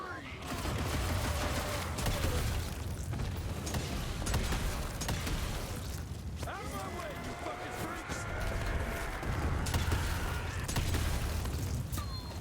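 Rapid bursts of gunfire and booming impacts from combat in the western-themed action game Evil West, played on the hardest difficulty, crackle steadily throughout while someone talks over them.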